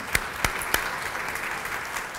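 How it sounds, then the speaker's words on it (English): An audience at a community college student celebration claps steadily, a diffuse wash of applause at moderate volume with a few sharper individual claps early on. "let's give Mark another round of applause."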